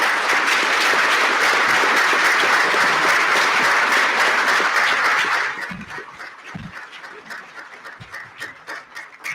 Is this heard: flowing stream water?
no